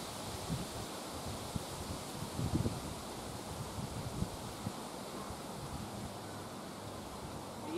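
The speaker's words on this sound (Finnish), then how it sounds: "Tuulee liikaa." Wind blowing outdoors while fishing: a continuous broadband rush with gusty buffeting on the microphone and faint rustling, steady for the whole stretch, with no talk.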